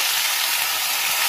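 Cabbage leaves frying together with other ingredients in a pan, a dense, continuous sizzling hiss, loud and even throughout.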